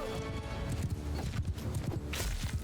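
Horse hooves clopping at a fast gallop in the medieval combat game Mount & Blade II: Bannerlord, a steady rapid thudding rhythm up close amid busy battle noise, with no talking.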